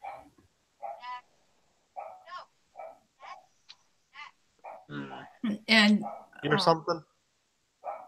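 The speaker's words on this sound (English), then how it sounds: "Sorry, that's my dog barking." A pet dog barks in short, sharp bursts in the background while people talk over a livestream, the barks clustering loudest near the end.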